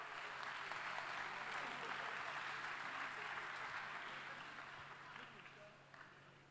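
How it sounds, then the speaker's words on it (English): At the 2019 Formula SAE Michigan awards ceremony, an audience gives a sustained round of applause for three teams, a steady dense wash of clapping from a large room that slowly tapers off. "Let's give all three teams a nice round of applause."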